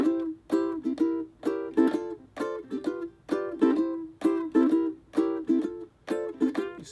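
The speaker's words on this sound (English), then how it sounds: "Today we are going to put open string strums in between each of the chords." Ukulele played in a swing strumming pattern with open-string strums between chords, a steady, bouncy, clearly rhythmic series of bright strums heard close up with no voice over it.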